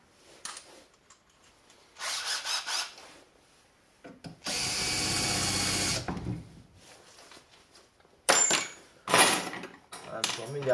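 A power drill whirs in a workshop in short separate bursts, with one sustained loud run near the middle and rougher grinding spurts near the end, set between quiet pauses.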